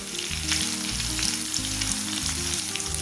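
Crushed small shallots and crushed chilli fry in coconut oil with a loud, dense, continuous sizzle and crackle, close up, with no talking over it.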